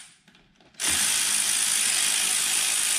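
Cam gear bolts on a 50cc engine being undone with a power tool, with a short quiet lead-in and then a sudden loud, continuous rattling ratchet whir right up close.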